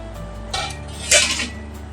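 A lid set onto a cooking pan, with a soft metal clink followed by a louder clattering contact.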